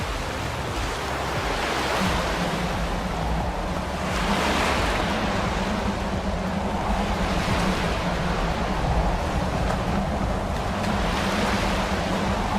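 Video game waves against a boat in Skyrim: steady rushing surf and wind wash fill the whole stretch, waves breaking in slow swells against a low constant rumble, with no voices.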